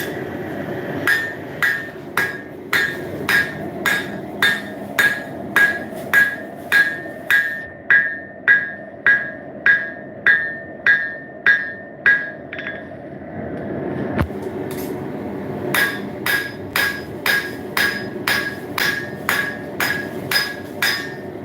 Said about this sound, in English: Now forging down the back, that drops that tip again.